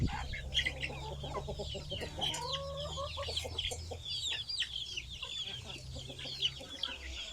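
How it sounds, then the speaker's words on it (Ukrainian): Several chickens clucking and chattering nearby, a busy overlapping flock sound over a low steady hum. "І кури зараз доєднаються."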